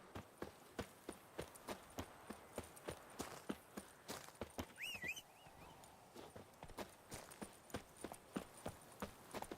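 Roach, the horse in The Witcher 3, walks at a steady pace, each hoof clopping in an even rhythm. The hoofbeats stay close and clear, with a brief whistling tone partway through.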